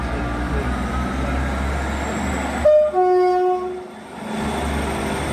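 A GWR train pulls away from the platform, heading for London. A steady rolling rumble is broken midway by a loud, sustained two-tone horn blast lasting over a second, then the rumble continues.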